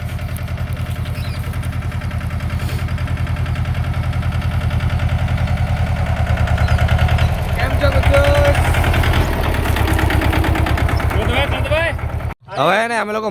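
A small tractor engine chugs steadily at close range, its low, even putter running throughout, with a brief dip near the end and people talking over it.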